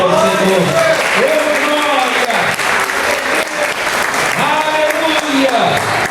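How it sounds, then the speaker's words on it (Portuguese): A church congregation claps steadily through a Thanksgiving Sunday service, dense sustained applause at full volume with a voice calling out over it. "Uma salva de palmas ao Senhor."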